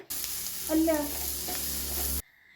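Ginger-garlic paste and papaya frying in a pan give a steady close sizzle for about two seconds, with a brief louder burst of stirring early on before the sound cuts off.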